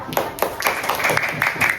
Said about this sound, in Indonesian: Silakan tepuk tangan semuanya.